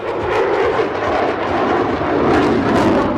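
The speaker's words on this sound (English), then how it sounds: "the F-35B Lightning II. The Marine Corps' multi-role fighter jet" Loud, steady roar of an F-35B Lightning II Marine Corps fighter jet engine, a dense broadband rumble with slight surges throughout.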